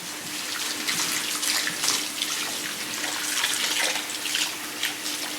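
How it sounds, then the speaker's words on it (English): Tap water runs steadily while a perm is rinsed out of hair at a salon sink, a close, continuous splashing rush with small fluctuations and no voices. "Now rinse it out."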